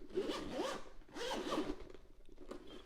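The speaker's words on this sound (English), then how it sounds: "The zipper is nice and solid" Zipper on a watch travel case drawn in two quick close pulls, followed by a softer third tug, crisp and near with no talk.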